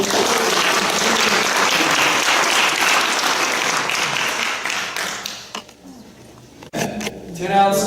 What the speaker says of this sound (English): please give a round of applause for all of our presenters this evening